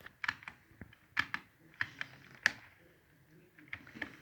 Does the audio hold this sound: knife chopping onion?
no